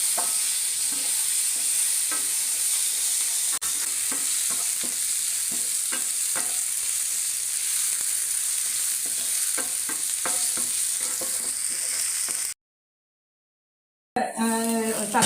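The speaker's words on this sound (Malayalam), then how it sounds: "നമുക്കൊന്ന് ഇളക്കാം." Okra curry with turmeric is stirred in a hot frying pan: a steady oily sizzle with repeated scraping stir strokes, close and continuous, then a short silence and a brief voice at the end.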